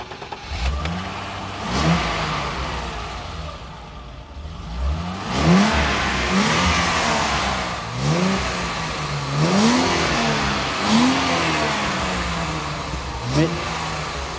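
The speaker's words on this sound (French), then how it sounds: "Moi, ce que je voulais, c'est le bruit du 6-cylindres." Six-cylinder engine of a BMW 320i E30 convertible revving repeatedly, each blip rising and falling in pitch, fairly close with a steady idle rumble between revs.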